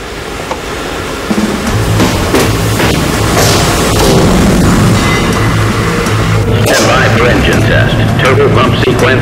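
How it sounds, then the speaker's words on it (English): A rocket engine fires on a static test stand while a small bomb planted inside it sets off combustion instability. After a quiet second, a loud, continuous roar booms and rumbles close by, unbroken to the end. "A small bomb is planted in the engine to deliberately trigger instability."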